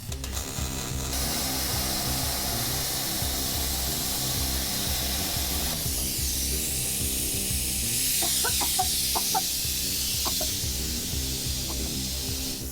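MIG welding of 1x1 steel tubing into a subframe on an off-road tow rig's floor, a steady loud crackling buzz with a few brief breaks and sharp clicks, no talking.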